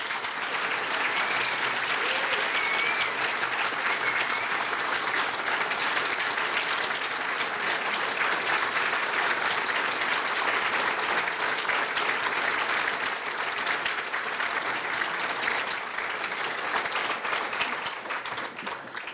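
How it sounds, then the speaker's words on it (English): A ceremony audience at a 2014 turnaround achievement awards event gives a long, sustained round of applause, a thick continuous clatter of many hands that holds steady before easing slightly at the end. "This round of applause is for you."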